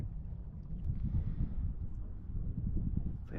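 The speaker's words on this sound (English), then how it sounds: "the wind is pushing me" Steady wind buffeting outdoors on a shallow bayou creek during a fishing trip from a small boat, a continuous low rumble of gusts against the microphone with no talking.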